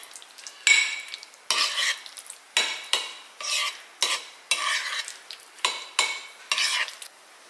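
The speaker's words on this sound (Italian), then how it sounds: "Mescoliamo." Salt, extra virgin olive oil and a spoonful of vinegar whisked together for a cucumber salad dressing, about ten quick scraping, swishing bursts of a utensil against a bowl in a steady rhythm, close and fairly loud.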